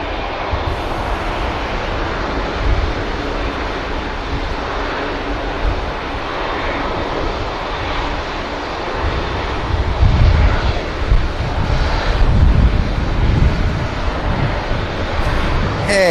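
An EgyptAir jet at Manchester Airport rumbles steadily from a distance, a broad roaring drone with wind buffeting the microphone that swells somewhat louder toward the end.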